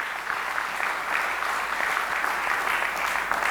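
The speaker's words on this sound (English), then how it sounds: "Let us give a round of applause for all these people." Dense, steady applause fills a conference hall as an audience claps for pro bono volunteers, a continuous even patter of many hands at moderate volume with no talking over it.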